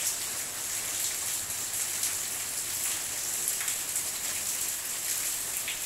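Heavy rain pours down steadily and close by, a dense, even hiss of drops striking surfaces with no pauses and no voices.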